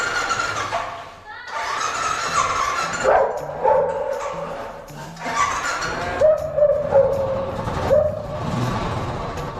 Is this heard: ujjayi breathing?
no